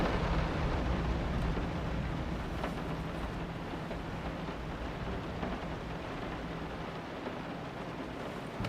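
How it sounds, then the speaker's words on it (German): Heavy rain heard through a window, a loud, dense and continuous roar with a rumbling low end and no break, sustained throughout. "Der Regen ist ein bisschen laut, oder?"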